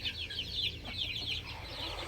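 Chickens cluck in quick, soft bursts close by over a low background hum, with a brood of chicks kept by a Thai fighting-cock breeder.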